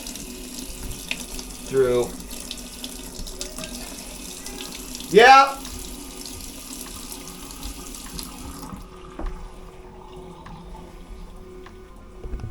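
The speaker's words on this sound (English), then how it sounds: "Alright, we got good cold water flow" Cold water runs from a tap aboard a boat, a steady flowing rush under the whole stretch, with two short voiced exclamations over it and the flow sound dropping away near the end.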